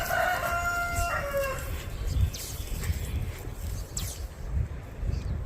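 Chickens in a yard cluck and a rooster crows early on, over a rough outdoor background with low thumps and scattered faint bird calls.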